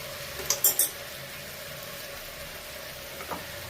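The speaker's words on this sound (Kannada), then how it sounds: "ಸೊ ಇದು ಆಯಿಲಲ್ಲಿ ಎಷ್ಟು ವೆಜಿಟೇಬಲ್ಸ್ ಫ್ರೈ ಆಗುತ್ತೋ ಅಷ್ಟು ಒಳ್ಳೆಯದು" Vegetables fry in hot oil for a homemade pulao seasoned with turmeric, pepper and garam masala, giving a steady low sizzle with a few sharp clatters of stirring early on and another faint one near the end.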